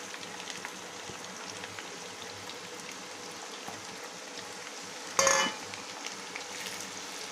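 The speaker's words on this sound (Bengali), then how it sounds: "এবার পেঁয়াজের বেরেস্তা ভেজে নেবো" Sliced onions fry in hot white oil in a wok, the base for a wedding-style chicken roast, giving a steady soft sizzle with one brief louder crackle midway.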